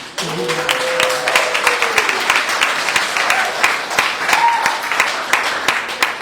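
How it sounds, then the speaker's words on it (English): An audience at a culinary job-training class graduation claps in a sustained, loud burst of applause with dense overlapping hand claps, a voice briefly heard over the start. "please hold applause until the end so I can get through this"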